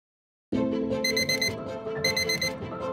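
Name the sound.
alarm clock ringing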